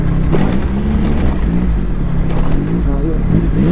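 A Yamaha XSR 900 motorcycle ridden over a rough road, a loud close engine drone with a wavering pitch, mixed with wind rush, bumps and rattles.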